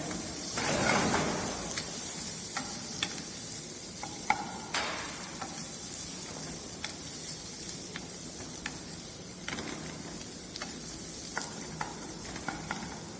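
Ginger and translucent onions sizzle steadily in a hot pan, a continuous bright frying hiss broken by light stirring scrapes and clicks, close and even throughout with no talking.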